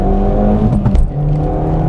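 A Fiat Cinquecento weighing 800 kg, fitted with a 1.4 T-Jet engine, revs up as it accelerates, its steady engine drone rising in pitch with a brief surge near the middle, loud and close.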